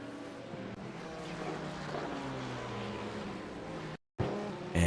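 Race cars roar around Monza's Parabolica in a sim racing replay, a steady loud engine drone with shifting pitch that cuts out briefly near the end before returning.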